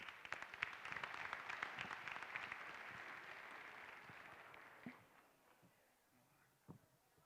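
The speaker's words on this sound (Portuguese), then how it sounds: "a quem eu peço uma salva de palmas" Applause from a crowd at a political candidacy launch, a fairly faint, distant wash of clapping that fades out around the fifth second, leaving a few scattered claps.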